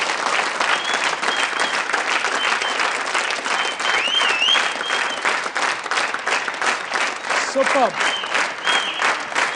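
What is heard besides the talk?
studio audience applause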